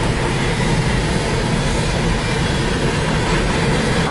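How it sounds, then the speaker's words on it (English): A long CN grain train of freight cars rolls past, giving a continuous, loud broadband rumble and rattle that holds steady throughout with no voices. "It's a grain train."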